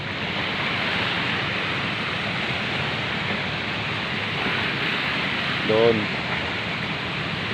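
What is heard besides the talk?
sea waves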